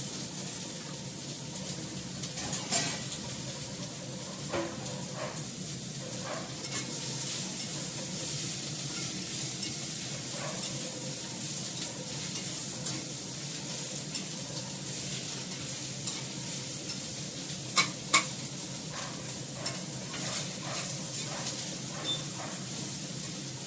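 Onion frying in a pan, a steady close sizzle and hiss with repeated stirring scrapes and clinks, no talking.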